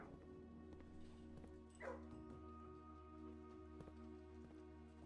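Dogs in a video game give soft yips and barks over a humming, tonal game soundtrack, with a brief whimper-like burst partway through, all fairly faint.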